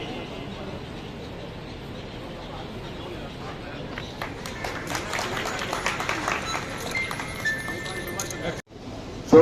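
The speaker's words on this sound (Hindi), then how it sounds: "जोरदार तालियों के गड़गड़ाहट के साथ में स्वागत होना चाहिए" Audience at a public function welcoming officials with applause, which swells into a dense patter of clapping midway and then cuts off abruptly near the end.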